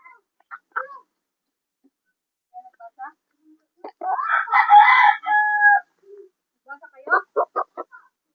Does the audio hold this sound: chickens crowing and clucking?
yes